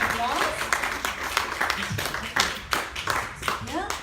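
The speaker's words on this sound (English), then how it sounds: "Let's give her a round of applause" Applause from the audience at a business event in Kuala Lumpur: dense, steady clapping that runs throughout, mixed with voices and talk.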